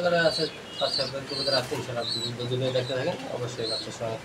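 Pigeons coo in overlapping low calls at a pigeon farm stocked with fancy breeds and young birds, with steady chatter and higher chirps over the top while people talk nearby.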